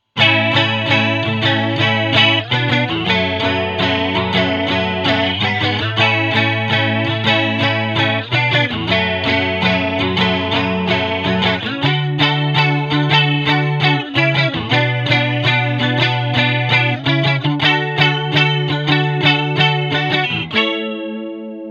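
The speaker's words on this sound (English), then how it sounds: "On with the jazz chorus JC-40." Electric guitar through a Roland JC-40 Jazz Chorus amp playing a continuous run of chords with a shimmering, wavering chorus effect, loud and close, ringing out at the end.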